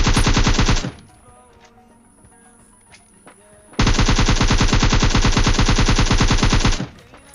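Sustained automatic gunfire in the mobile shooter PUBG Lite, played on a Redmi 8A Dual: a loud, rapid burst of about a second, a pause with faint game sounds, then another long burst lasting around three seconds.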